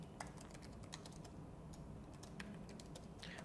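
Computer keyboard keys tapped in a steady run of light clicks while entering a meeting location in Outlook, close and clear with no talking.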